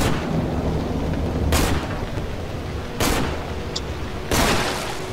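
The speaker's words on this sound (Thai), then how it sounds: "เดี๋ยวผมเอาลูกโม่ยิงไอ้พวกนี้ก่อน" Three loud revolver shots in the horror game Cry of Fear ring out at slow, even intervals of about a second and a half each. They cut through a dense, steady ambient background with no voices.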